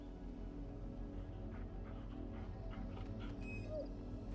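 A dog whimpers softly in Final Fantasy XVI, faint yips and whines sitting over a steady bed of game music and ambience.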